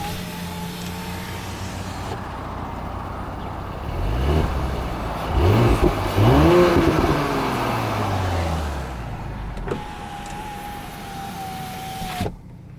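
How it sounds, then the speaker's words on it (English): A 2019 Audi S4 with its engine warmed up idles, then revs several times, exhaust note rising and falling in rounded swells before settling back to a steady idle, heard clearly and close up. "I want you to hear the exhaust."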